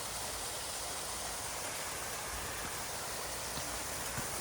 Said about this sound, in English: look at that waterfalls. It's not the biggest waterfall, but it's something.